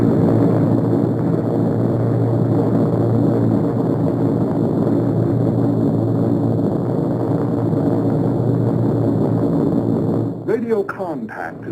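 Military bomber aircraft in flight, with Adak as the base of operations: a loud, steady drone of propeller engines that continues throughout, fading slightly at the very end.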